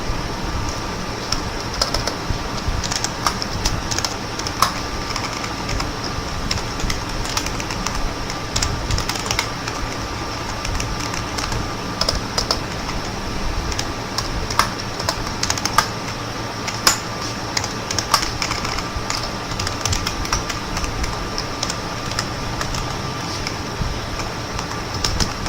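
Computer keyboard clicking in irregular bursts as simple HTML code is typed, soft and fairly close over a constant low background hum, with no talking.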